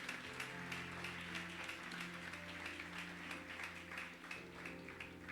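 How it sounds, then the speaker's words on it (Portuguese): A church congregation applauds steadily throughout, a dense wash of clapping under sustained low musical tones, moderately loud and continuous. "Você pode aplaudir o Senhor Jesus Cristo, hein?"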